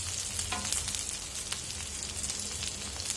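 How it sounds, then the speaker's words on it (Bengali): Tangra fish cooking in a pan gives off a steady, moderately quiet sizzle and crackle, a continuous frying hiss with scattered small pops. "আজকে রান্না করছি ট্যাংরা মাছ"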